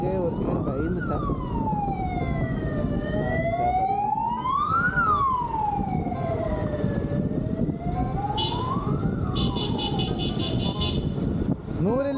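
A 108 ambulance siren wailing on a road in Tirupur, rising and falling in slow sweeps three times, then switching to a rapid yelp, loud over traffic noise.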